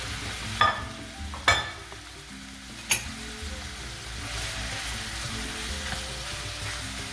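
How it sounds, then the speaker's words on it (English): Chicken pieces sizzle and spit in hot oil while being stirred in a pan for Indian butter chicken, a steady close frying hiss broken by a few sharp clanks of a utensil against the pan. "our oil is almost hot here, so we're going to add our chicken"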